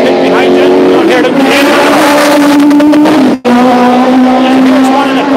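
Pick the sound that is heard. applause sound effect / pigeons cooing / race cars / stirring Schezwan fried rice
race cars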